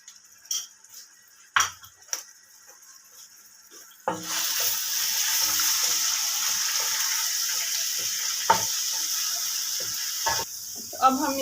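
A few sharp clicks and taps in near silence, then garlic-ginger paste drops into hot oil and a steady, moderate sizzle takes over, punctuated by occasional utensil knocks.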